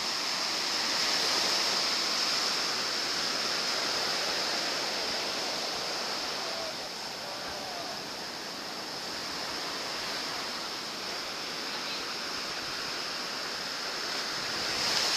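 Steady broadband roar of high surf breaking on Praia Brava da Almada, a quiet beach near Picinguaba, heard as a continuous wash from some distance with no talking.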